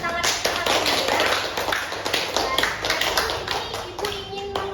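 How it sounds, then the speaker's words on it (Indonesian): Children in a classroom clap their hands together, a loud, brisk burst of rhythmic claps close by, with faint young voices mixed in. "Berikan tepuk tangan untuk kalian."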